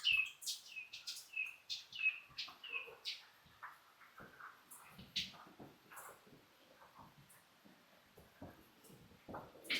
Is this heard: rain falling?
no